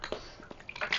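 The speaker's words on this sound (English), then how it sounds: "Let me get a swig of water to start over again" A person takes a quick swig of water, brief soft sloshing and swallowing sounds at close range, quiet and lasting about a second with no talk.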